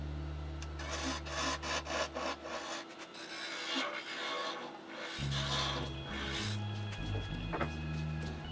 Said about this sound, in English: take some coarse sandpaper to it and then I'll smooth that out